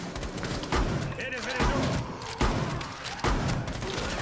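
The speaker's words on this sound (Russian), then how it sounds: "С такого расстояния 4 выстрела в упор" Gunfire in the Rainbow Six Siege video game, several heavy close-range shots thudding in uneven succession amid dense, busy game noise.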